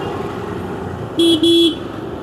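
A vehicle horn on a road near Koruthodu and Kuzhimavu gives two loud, close toots in quick succession over a steady hum of road noise.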